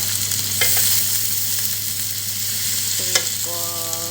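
Squid balls fry in a pan and are stirred, giving a dense crackling sizzle with scraping strokes and a brief tonal beep near the end.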